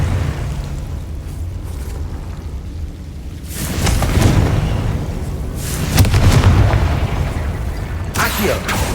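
Spell explosions from a Harry Potter game cast with Confringo, heavy booming blasts that swell and roll out in two or three loud waves over a continuous rumbling background.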